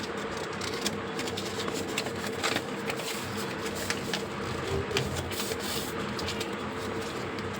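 Folded paper being opened out for a Diwali paper flower craft, a continuous soft crinkling and rustling close by, fairly quiet with small crackling bursts throughout.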